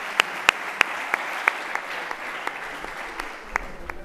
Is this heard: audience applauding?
yes